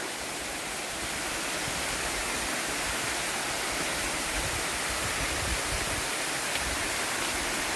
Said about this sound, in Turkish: Burası Kuzalan Şelalesi